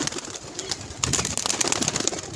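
A pigeon coos close by outdoors, soft throaty calls running through the short stretch with a little background rustle.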